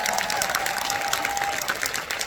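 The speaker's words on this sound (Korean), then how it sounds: "천만 배우 타이틀이 붙은 조한철 배우님 사실 네 박수 부탁드립니다" Audience applause at a Korean film screening Q&A event, a dense, steady patter of many hands clapping that fills the whole moment without pause.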